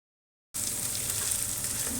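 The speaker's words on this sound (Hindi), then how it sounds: "अभी फ़िलहाल ये डाल के मैं प्याज को फ्राई करूँगी" Onions with ginger garlic paste sizzle steadily in hot oil in a pan for kabuli pulao, a close, even frying hiss that begins abruptly after a short silence and continues without talk.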